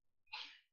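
A single short, sharp sneeze, close and fairly quiet, with a quick breathy burst and no other sound around it.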